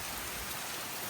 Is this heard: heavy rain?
yes